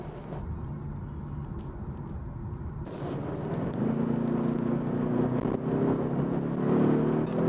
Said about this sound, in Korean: 엔진 사운드 제너레이션 소리가 굉장히 잘 들어간 것 같아요